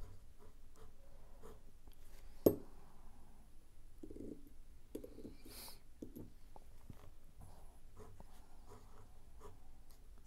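A Sailor Pro Gear Too Hot Habanero fountain pen with a music nib writing on paper. Faint, close scratchy strokes come in short bursts, with one sharp tap early on, in a quiet room with no talking.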